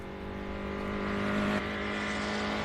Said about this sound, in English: Big V8 in there.